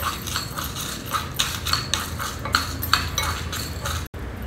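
Coriander seeds and dry red chilies dry roasting in a pan for South Indian cooking, with steady close scraping and light clinking from stirring throughout.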